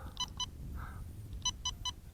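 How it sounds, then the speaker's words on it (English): Two short electronic beeps from a tiny quadcopter's controller, then a pause and three more evenly spaced beeps signalling high rate, clear but not loud against a low background hum. "You heard those 3 beeps?"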